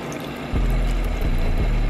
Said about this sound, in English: I gotta put water in it.